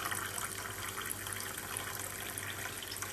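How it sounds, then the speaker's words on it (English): Tap water pours steadily into a glass, a continuous close hiss and splash with no break, during soup cooking with measured water. "fill up the glass"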